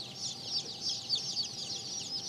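Barred Old English Game Bantam chicken clucking steadily and close by, a continuous run of bright, rapid calls with no voices.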